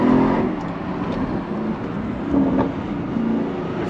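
An Audi RS6 Performance with a titanium Akrapovic full exhaust gives a deep, rumbling note from inside the car, swelling gently a couple of times as the car drives.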